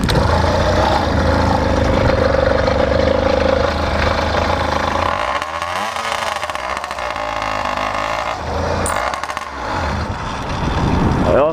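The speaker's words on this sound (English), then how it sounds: "it's still a pretty new motor build here, and it's got that weird noise happening" An 80cc motorized bicycle engine, a fairly new build with a strange noise, runs loud and close, a continuous buzzing drone that wavers in pitch midway, with no voices.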